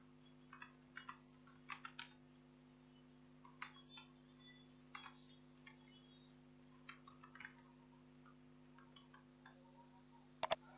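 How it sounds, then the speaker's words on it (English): Scattered keystrokes on a computer keyboard, soft irregular clicks in short clusters over a quiet steady hum, with a sharper double tap near the end. "Then type text, type anything"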